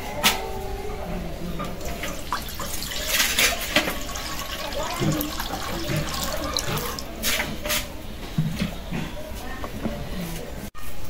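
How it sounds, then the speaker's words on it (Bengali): Hot water splashes and trickles over potatoes being washed in a kitchen pan, with irregular sloshes and drips and faint talk now and then. "এখন একটু ওই যে আলুতে গরম পানি দিয়ে ধুবো"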